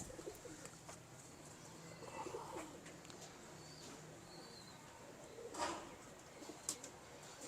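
Pigeons kept in a coop coo softly in the background, low murmuring calls under faint ambient noise, with a brief louder flutter or knock near the end.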